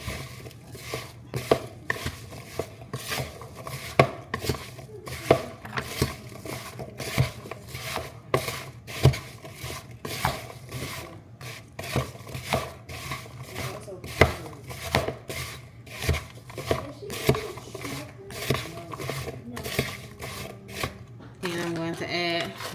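Pie filling with vanilla is mixed in a bowl, a close, rhythmic series of scraping and tapping strokes repeating steadily throughout.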